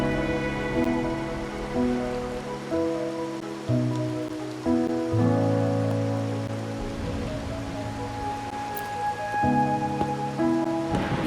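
Video game rain from Wuthering Waves patters steadily on a surface beneath a soft, tonal musical background, a constant gentle wash of drops with no voices.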